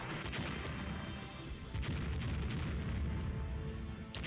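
Naval battleship gunfire in the warship strategy game Rule The Waves, a dense continuous rumble of heavy cannon booms and crashes rolling on without pause.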